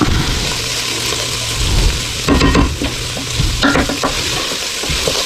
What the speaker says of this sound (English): Now this garlic won't take long to cook, about a minute.